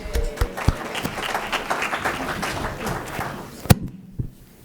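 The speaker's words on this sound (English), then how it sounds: "Give yourself a round of applause." Audience applause at a Great Salt Lake issues forum session, scattered clapping of moderate loudness across the room that thins out and stops near the end, with a few louder single claps.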